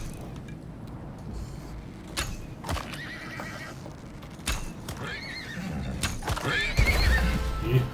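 Horse-like Tyrannus creatures in the survival video game Icarus whinny and neigh over clip-clopping hooves, with sharp knocks and rising noise toward the end over a constant low ambient rumble.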